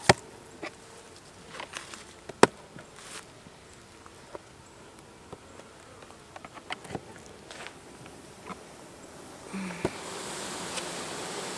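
Honey bees buzz at an opened Apimaye hive during a colony split, a faint steady hum with light taps and handling sounds scattered throughout, growing a little louder near the end.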